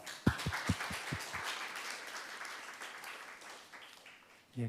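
Forum attendees applaud to open a workplace-innovation case-sharing forum, a few sharp individual claps leading into soft, moderately distant applause that tapers off.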